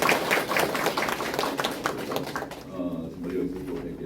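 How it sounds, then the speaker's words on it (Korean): Audience applause at the opening ceremony of an oral health room, a dense patter of many hands clapping for about two and a half seconds before it thins out, with voices murmuring underneath. "박수 드립니다"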